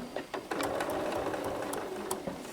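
A sewing machine runs steadily as it stitches binding onto a quilt, a continuous close mechanical whir with a few brief stops and restarts at the beginning, as if reversing a few stitches.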